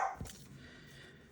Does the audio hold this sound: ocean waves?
no